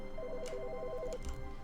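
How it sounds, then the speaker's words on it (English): An old-style telephone rings in The Stanley Parable, a repeated electronic trill of quick tones carrying clearly over a steady low background hum, then fading off. "Which phone is ringing?"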